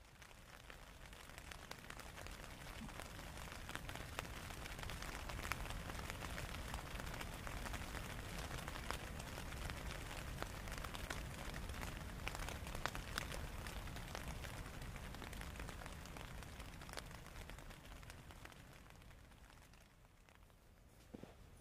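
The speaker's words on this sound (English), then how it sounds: "It rained all night." Steady rain patters on a backpacking tent through the night on a multi-day Brazeau Loop hike in Jasper, a dense even hiss with scattered drops, continuous and close, easing slightly near the end.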